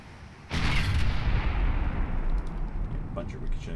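Naval gunfire in the warship game Ultimate Admiral Dreadnoughts, a sudden loud boom followed by a sustained rumbling roar of shells and ricochets, with scattered sharper impacts near the end.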